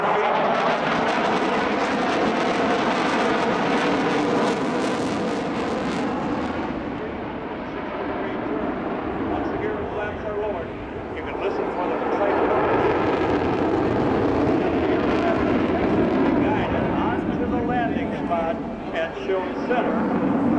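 F/A-18 Hornet jet on a low approach at 500 feet during the Wings & Waves air show; a loud, broad jet roar swells, eases and builds again over twenty seconds while an announcer talks over it.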